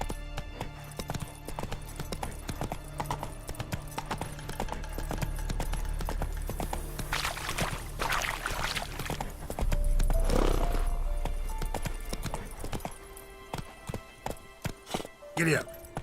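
Roach, the horse in The Witcher 3, gallops with a steady drumming clip-clop of hooves, loud and close, with a brief whinny and game ambience around it.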